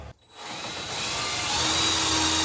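A power drill bores into the steel ceiling support beams of a bus under conversion, starting after a brief pause, then whining steadily and loudly with a high, continuous tone that rises slightly as the bit works the hole wider.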